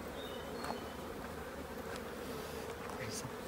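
Honey bees crawl over hive frames in a sparsely populated colony, giving a soft, steady buzzing drone close by with a few brief louder passes.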